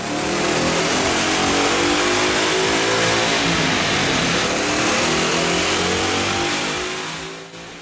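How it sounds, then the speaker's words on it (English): A 2011-2014 Mustang GT V8 fitted with a cold air intake revs hard on a dyno, a loud, sustained, rising engine roar held close for several seconds before tapering off at the end. "Let's put the 1768 cold air induction system to the test on the dyno."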